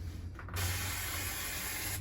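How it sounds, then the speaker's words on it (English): Brake cleaner sprayed onto a VNT turbocharger from a VW/Audi 2.0 TDI 140 PD engine during a Jeep Patriot turbo rebuild: a sudden close, steady aerosol hiss that lasts about one and a half seconds, then cuts off. "We'll spray with a bit of brake cleaner"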